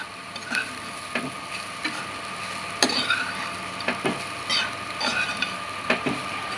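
Leftover chapati crumbs for chivda being stirred in a sizzling pan, a spoon scraping and clinking against the metal every second or so over a steady soft frying hiss.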